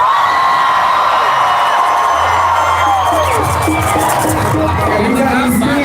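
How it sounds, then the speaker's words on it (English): A large outdoor crowd at a climate strike rally in Denver screams, whoops and cheers loudly and continuously, with rising and falling shouts layered over a dense roar. "If you got to scream, make sure you scream loud enough so your ancestors hear you."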